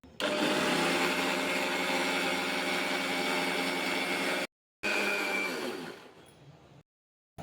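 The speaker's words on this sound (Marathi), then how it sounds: "परत आपल्याला मिक्सर फिरवून घ्यायचे आहे।" A kitchen mixer grinder whirs loudly and steadily as it grinds peanut chutney with added water, cutting out briefly, then restarting and winding down before stopping.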